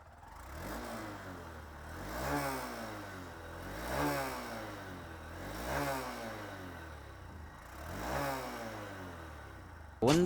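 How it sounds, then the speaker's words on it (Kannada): A Honda Shine 125 motorcycle idles with a mid-pitched exhaust note and is revved four times in slow, evenly spaced swells. It is recorded up close, with each rise and fall clearly separated. "ಇನ್ನು ಗಾಡಿ ಎಕ್ಸಾಸ್ಟ್ ನೋಟ್ ಕೇಳಿಸ್ಕೊಬಿಡಿ"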